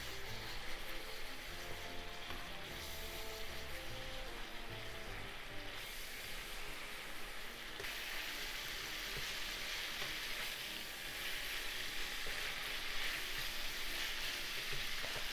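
Yakiniku beef simmering down in its sauce in a pan: a constant, dense frying sizzle heard close up, with intermittent stirring and bubbling, steady throughout with no talking.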